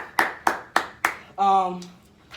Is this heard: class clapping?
yes